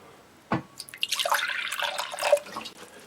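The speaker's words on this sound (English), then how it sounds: "I just need to put a little bit of water in there, not a lot, just a little bit." A small amount of water is poured into a glass jar, beginning with a sharp tap of glass then a short, close trickle and splash lasting a couple of seconds.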